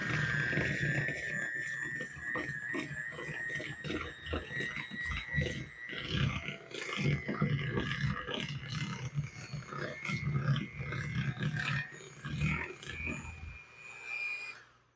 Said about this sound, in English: I apologize in advance for how loud this mixer is.